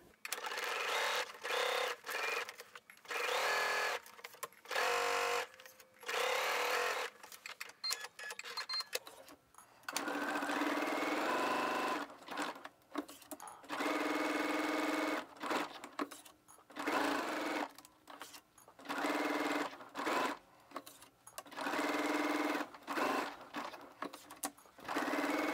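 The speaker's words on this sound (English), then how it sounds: "We're gonna move to our next dot and we're gonna stitch 5/8 of an inch." A sewing machine stitching a seam on a dress, its motor whirring in repeated bursts of steady needle chatter, stopping and starting between short pauses, close and clear.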